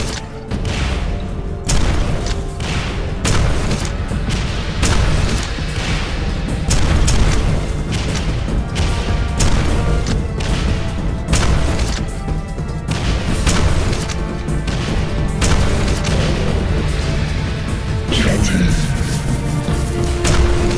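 Dense, loud explosions and booming weapon blasts from Quake 4 combat in The Nexus, with heavy impacts repeating throughout and a near-continuous thundering barrage.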